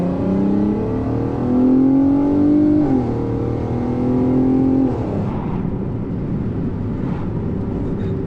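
A Golf 5 R32 sports car engine revs up close and loud, its pitch climbing in steps through gear changes before settling into a lower rumble.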